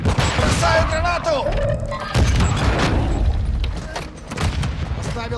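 A grenade blast in Call of Duty: Modern Warfare II amid a busy firefight, with a loud broadband burst standing out over dense gunfire and game noise while a voice speaks throughout.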